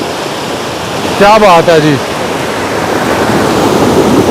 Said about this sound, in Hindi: कितनी खूबसूरती से, कितनी रवानगी से पानी आ रहा है।